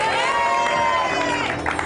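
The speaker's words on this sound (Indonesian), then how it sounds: "Tepuk tangan dong buat Pet." Studio audience cheering on an Indonesian entertainment show, a loud crowd roar with whoops and hubbub, steady and close, mingled with excited voices throughout.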